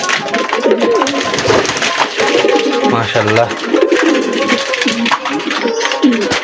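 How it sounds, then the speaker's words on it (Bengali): A male pigeon coos repeatedly in a close, busy loft with other pigeons, its low rolling calls running through the clip beneath occasional talk. "এখন আমার কক্কা কবুতরটা ডাকছে"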